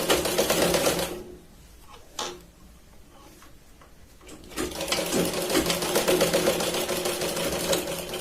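Sewing machine stitching a sleeve onto a katori blouse, running in two loud bursts of rapid mechanical ticking with a quiet pause and a single click between them.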